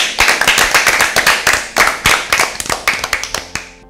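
An audience claps for Team B at an Easter Bible quiz, a loud burst of many sharp hand claps that thins into scattered individual claps toward the end, with no talking.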